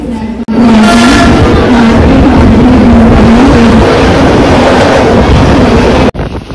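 The Bandra Vapi Express pulls out of Virar station, giving a loud, steady rumble with a sustained low hum throughout, heard from on board and cut off sharply at both ends.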